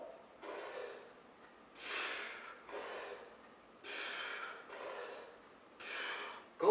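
Audible breathing through a dips workout, six slow rhythmic inhales and exhales about a second apart, near and fairly soft, with no talking.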